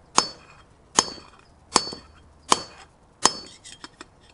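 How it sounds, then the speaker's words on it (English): Five evenly spaced metallic hammer blows drive a bearing race into a boat trailer hub, each a sharp ringing clink with a short decay, followed by a few lighter taps at the end. "That race has been properly pounded."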